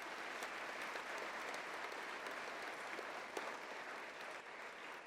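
A graduation ceremony audience applauding prize winners: steady, fairly faint clapping from a large hall crowd, continuous and even throughout.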